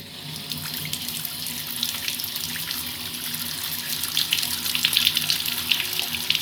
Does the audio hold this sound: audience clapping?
no